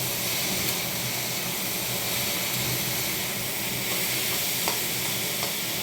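Bitter gourd slices fry in a pan with a steady, close broadband sizzle and hiss, with a few faint clicks of a spatula scraping through, and no talking.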